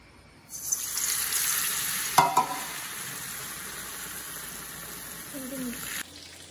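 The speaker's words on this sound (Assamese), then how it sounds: "ৰিফাইনটো গৰম হৈছে আৰু এতিয়া এইকেইটা ভাজিব লাগিব" Steady, bright sizzle of bread fritters frying in hot oil, starting abruptly and hissing evenly for several seconds, with a brief clatter midway before cutting off.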